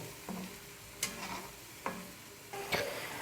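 Egg curry gravy heating toward a boil in a pan, with a soft bubbling simmer broken by several sharp knocks and scrapes of a spoon stirring, close by and without speech.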